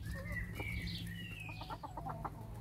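Several newly added hens clucking in a backyard flock as they mix with the other chickens, repeated short calls and squawks at close range, steady and fairly loud with a constant low background hum.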